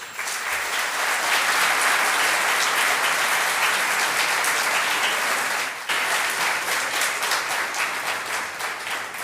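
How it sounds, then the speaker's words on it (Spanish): Sustained audience applause fills a book presentation hall as the next speaker is introduced, steady dense clapping with a brief dip midway, no talking over it. "Un aplauso, por favor."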